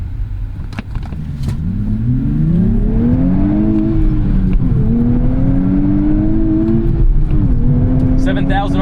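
A 2024 Nissan Z engine pulling hard toward redline from inside the cabin, a loud, rising engine note that climbs through gear shifts with brief dips between them, while a person talks over it.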